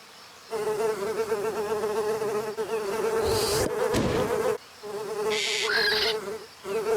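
A fly buzzes close by in bursts, a droning whine that cuts out briefly twice before returning, with no voices.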